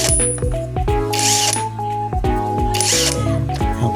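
A socket being fitted onto a DeWalt impact wrench during unboxing, close metallic clicks, clinks and ringing scrapes repeating throughout, with no talking.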